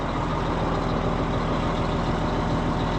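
The engine of a harvest machine used in barley harvesting in Western Australia runs at a steady idle after starting, a loud, even low rumble with a constant hum close by and no talk.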